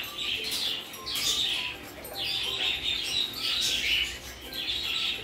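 A Moluccan cockatoo makes soft, high chirping and cooing noises in short repeated bursts while being preened, close and fairly quiet with no talking over it.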